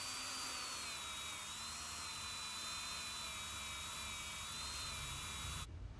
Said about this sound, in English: Just give them a little bit of a clean up with the Dremel.